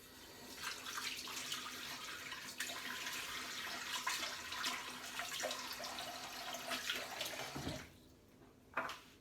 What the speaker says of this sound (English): let's get some water on my face